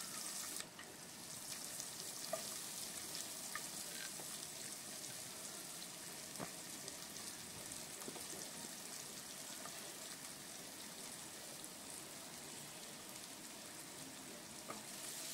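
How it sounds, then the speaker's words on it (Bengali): Chopped onions fry with whole bay leaf, cardamom and cloves in a pan, a dense, even, faint sizzle that runs unbroken throughout, with occasional soft ticks and no voices. "পেঁয়াজটা ভালো করে ভেজে নিতে হবে"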